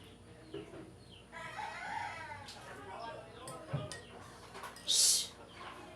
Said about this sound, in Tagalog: Manok, pumapasok yung manok.